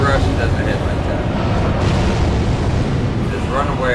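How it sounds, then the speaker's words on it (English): Delayed explosions from a fire giant's attack in Elden Ring merge into a continuous heavy roar and rumble of blasts, loud and close throughout. "all the shit's going to fly at you, then explode. Delayed explosions."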